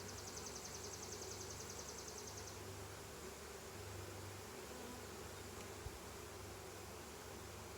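A honeybee colony roars steadily as the hive is opened for a split check in July, a dense continuous buzzing hum with a brighter whine in the first few seconds and no talk over it.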